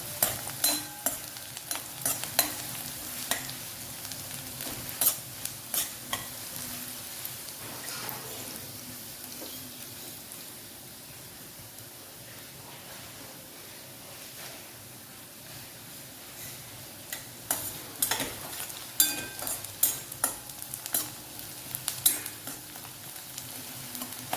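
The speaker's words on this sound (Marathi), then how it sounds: "कांदा चांगला परतून घ्यायचा आहे लालसर छान असा ब्राऊन होईपर्यंत" Onions browning in a pan for a Marathi wild-greens dish made with chaicha mohor, with steady frying sizzle and intermittent scraping stirs, busier at the start and near the end; no one speaks.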